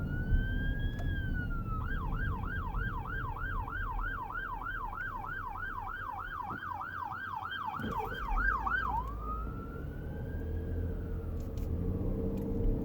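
A police car siren passes while riding in a 2019 Dodge Durango, a wailing tone that shifts into a fast yelp cycle for several seconds, then fades back to a wail over road noise.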